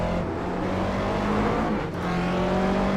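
A McLaren GT3 race car engine drones steadily in the iRacing sim at the Nordschleife, with a sustained harmonic tone holding near and loud for the whole stretch and no talking over it.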